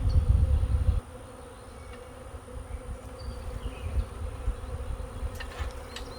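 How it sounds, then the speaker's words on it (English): A honeybee swarm buzzes around a swarm-catching bucket, a dense, continuous hum under a louder rumble at the start, with individual bees droning past nearby. "a lot of the bees are settled on the outside of the bucket"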